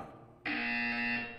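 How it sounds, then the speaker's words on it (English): An electronic buzzer in the video game Portal 2 sounds abruptly, a harsh, steady tonal drone lasting about a second, loud and alone after a quiet start. "When you hear the buzzer, stare at the art."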